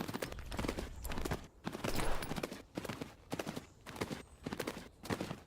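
Horse hooves clip-clop in the Tales of Rein Ravine horse video game, a steady run of close, loud hoof beats broken by a few short pauses, with no one talking over it.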